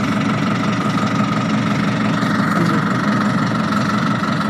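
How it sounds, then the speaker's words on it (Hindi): A tractor engine runs steadily in gear with the PTO shaft spinning, giving a continuous, loud mechanical drone with a rough, knocking texture throughout. "अब ट्रैक्टर को गियर पे लगा के मूव करके देखते हैं। जब ट्रैक्टर चलता है तो पीटीओ स्पीड भी पीटीओ भी घूमता है।"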